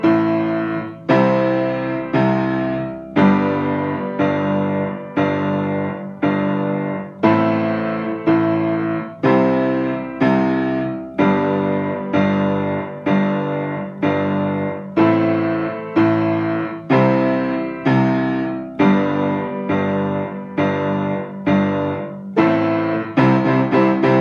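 Piano playing the final choruses of a song, a steady stream of rhythmic chords and melody repeated through, loud and close with no talking.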